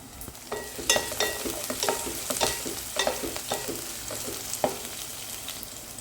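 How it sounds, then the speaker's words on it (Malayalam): A spoon stirs sliced shallots frying for a sardine fish curry in a pan, giving irregular scraping clicks over a steady, moderately loud sizzle with no talking. "നന്നായി ഇളക്കി കൊടുക്കും"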